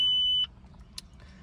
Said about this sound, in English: all that beeping is all the stupid light bulb checks